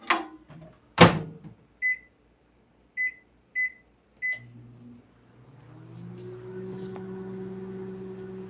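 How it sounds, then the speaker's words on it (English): A microwave oven warming a sandwich: a door click, a run of short keypad beeps, then the oven starts with a steady low hum that continues alone to the end. "I had to put my sandwich in the microwave just for a few seconds,"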